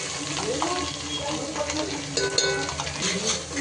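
Cumin and mustard seeds tempering in hot oil with red chili powder and spice mix, a steady close sizzle while a utensil stirs, with a few faint clinks and no talking.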